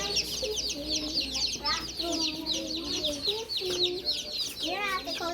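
Backyard chickens clucking and squawking repeatedly, close and busy, with a voice talking now and then over them.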